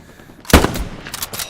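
Machine gun fire in Hell Let Loose, a loud close burst followed by a few quicker, fainter shots trailing off.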